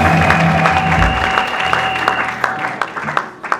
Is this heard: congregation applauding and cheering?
yes